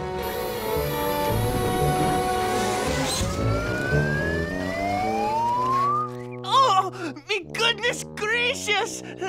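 A siren rises and sweeps upward in pitch over a busy mechanical background, then fades as several voices talk excitedly.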